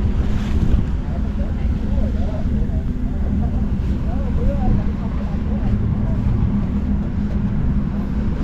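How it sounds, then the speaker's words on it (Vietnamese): Steady low rumble of a large tanker-like ship passing at sea, heard from a small fishing boat amid wind buffeting the microphone and washing waves, with brief faint voices in the background. "Nó có chiếc tàu chuyện ngang qua nè."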